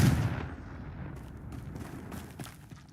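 A Confringo blasting spell in Hogwarts Legacy explodes at once, a loud boom that fades into a rumbling, crackling tail over a few seconds.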